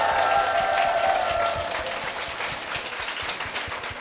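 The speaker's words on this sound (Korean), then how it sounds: "박수 부탁드립니다" Church congregation giving a strong round of applause for a pastor and a spiritual training institute, steady dense clapping filling the room.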